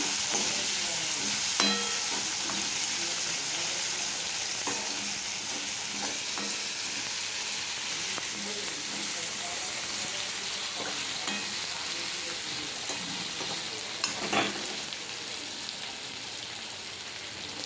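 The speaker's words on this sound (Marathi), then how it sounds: "इथे आपला कांदा गोल्डन ब्राऊन होतो आहे" Chopped onion fries toward golden brown in hot oil, a steady close sizzle with occasional stirring scrapes and taps of a spoon throughout, with no one talking.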